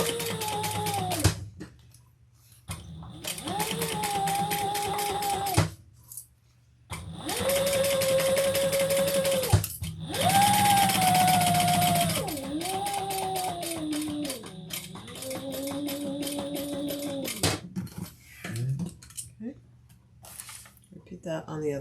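A sewing machine runs in several bursts, stitching a seam on a leather and vinyl crossbody bag. Some runs are long and steady, others short, with pauses between them and a person talking in the quieter gaps.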